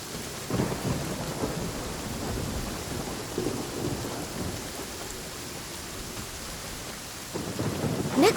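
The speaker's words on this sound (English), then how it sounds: "I love listening to the rain from the courtyard" Steady rain and rumbling thunder in Genshin Impact, heard from a courtyard: a continuous wash of falling rain with low thunder rolls swelling near the start, around the middle and again at the end, no voices.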